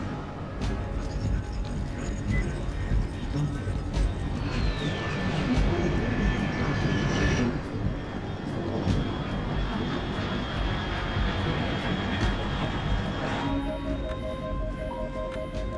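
A fast aircraft is heard high overhead in a Metal Gear Solid Delta: Snake Eater cutscene, as a steady engine roar with a rising whine, layered under game score and ambience.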